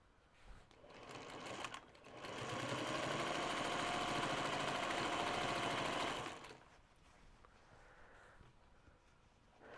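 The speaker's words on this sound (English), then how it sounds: "I'm going to sew with a 1/4 of an inch." A sewing machine runs in one steady, loud burst of about four seconds, stitching a quilt-as-you-go June Tailor project bag with a quarter-inch seam, with quieter handling noise before and after.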